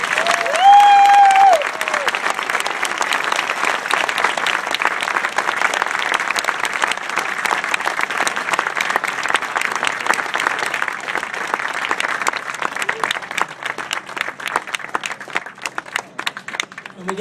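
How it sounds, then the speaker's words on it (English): Sustained audience applause at a Relay for Life event, a dense crowd of clapping hands that swells loud and holds steady for many seconds before thinning toward the end, with a brief tone and cheering at the start. "Can we get another round of applause"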